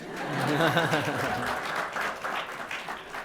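Audience at a lecture on constitutional law breaking into applause, a dense wash of clapping from a crowd in a hall, moderately loud and sustained, with someone speaking over it.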